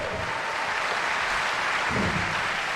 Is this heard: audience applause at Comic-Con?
yes